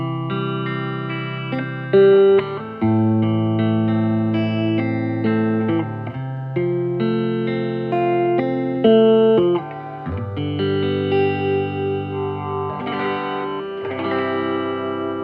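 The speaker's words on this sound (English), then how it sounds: "we're just going to play a few chords just so you hear it." Clean electric guitar chords ring out through a Fender Vibrolux Custom 68 Reissue amp with reverb switched on, volume near 3.5, several strummed chords sustaining and changing in turn with a soft reverberant tail, no talking.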